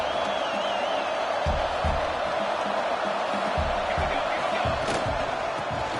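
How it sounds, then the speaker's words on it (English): A home stadium crowd roars steadily at a college football video game between Oregon and Florida, with a dense, sustained cheering wash and occasional thuds beneath it. "this home crowd is fired up and ready to make a difference today"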